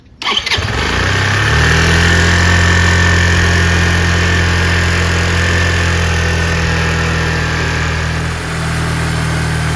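A Chinese 150cc motor scooter engine starts and then idles steadily as it warms up, loud and close, with a steady low hum and a faint high whine running throughout.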